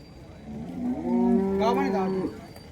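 At a cattle market a single cow lets out one long, close, rising and falling moo over faint background noise.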